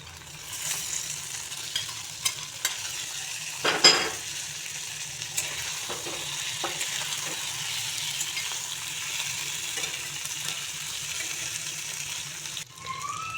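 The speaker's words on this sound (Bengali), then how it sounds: "মাছগুলো দিয়ে দিচ্ছি" Small puti fish fry in a pan, giving a steady close sizzle with a brief louder splash early on and occasional light taps of a utensil, continuous and without talk.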